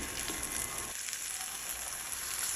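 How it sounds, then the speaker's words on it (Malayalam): Brinjal pieces fry in oil over a low flame, giving a steady, close crackling sizzle that holds throughout, briefly fuller at the start before settling into an even hiss, with no talking. "നമുക്ക് ഫ്രൈ ചെയ്തെടുക്കാം ഓരോ ഭാഗവും ഈ രണ്ട് മിനിറ്റ് മാത്രമേ ഫ്രൈ ചെയ്യേണ്ട ആവശ്യമുള്ളൂ നല്ല ലോ ഫ്ലെയിമിൽ അങ്ങ് വെച്ച് കൊടുക്കാം"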